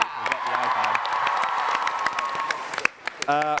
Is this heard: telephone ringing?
no